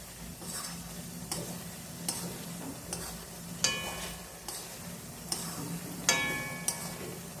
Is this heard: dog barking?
no